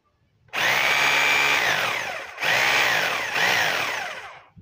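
Electric hammer drill running after a coil repair, a loud high whining motor roar that starts abruptly, cuts out briefly twice and revs back up, close and alone.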